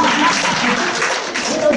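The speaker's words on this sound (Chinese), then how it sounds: "拍拍手" An audience at a lecture by a Taiwanese-language school teacher breaks into applause, a dense, continuous patter of many hands clapping at close range, with voices mixed in underneath.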